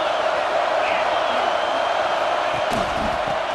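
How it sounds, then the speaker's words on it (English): Stadium crowd noise from EA Sports College Football 26, a dense, steady roar of a large football crowd making noise against the offense, continuous and loud with brief whistles or shouts near the end. "This crowd trying to make life miserable for this offense."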